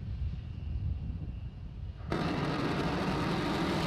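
SpaceX rocket thrusters kicking on during a falling descent, a sudden loud roaring rush that jumps in over a lower rumbling wind noise and holds steady.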